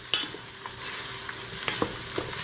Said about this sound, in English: let's melt the butter